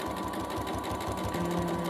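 A sewing machine with a walking foot runs steadily, stitching along the edge of fabric for a large tote bag, a close, even, rapid mechanical rhythm with no talking.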